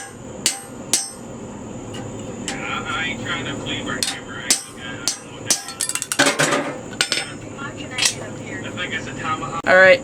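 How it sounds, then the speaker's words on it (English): Sharp metallic hammer blows on a cold chisel cutting copper ring out irregularly, with a quick flurry of rapid strikes midway, over steady background noise. "grab a hammer and a cold chisel"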